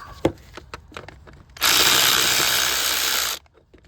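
Work on a Hyundai Accent engine bay: a few sharp clicks and knocks, then a loud, steady ratcheting buzz of a hand ratchet spinning off a bolt for about two seconds before stopping.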